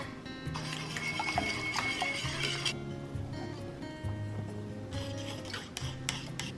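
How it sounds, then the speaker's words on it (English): Cornbread batter of melted butter, buttermilk and eggs being mixed in a bowl: continuous close scraping and rubbing strokes, with a soft wet swish and a few light clinks against the bowl. "try not to overmix your batter"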